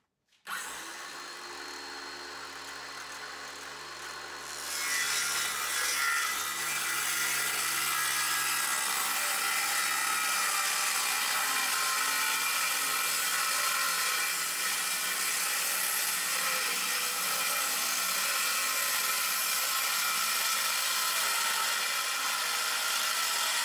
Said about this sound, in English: So I'm just going to make this cut right down the middle with my circular saw